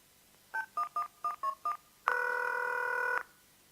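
A mobile phone is dialled before a call: six short evenly spaced keypad tones, then a single longer sustained tone, clear and close with no talking.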